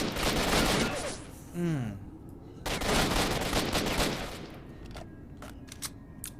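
A rifle fires a few single shots in STALKER: Shadow of Chernobyl, sharp bursts separated by pauses, with someone talking between them.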